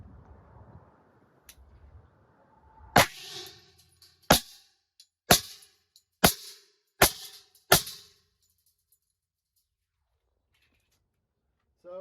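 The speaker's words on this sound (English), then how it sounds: "Gonna shoot the 10mm from Alpha Foxtrot on the closed plate rack here." Six loud, close pistol shots from a 10mm Alpha Foxtrot 1911 fired at a steel plate rack, spaced roughly a second apart with short ringing tails, followed by quiet.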